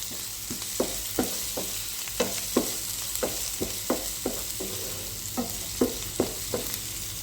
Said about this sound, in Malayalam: ഇത് വീണ്ടും 1 മിനിറ്റ് നന്നായി വഴറ്റിയെടുക്കുക